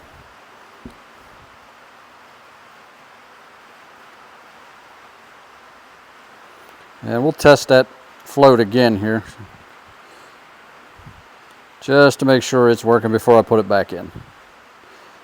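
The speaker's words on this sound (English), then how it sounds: "Apologize for the rain, the noise from the rain." Steady soft hiss of rain falling continuously, with someone talking over it in two short stretches.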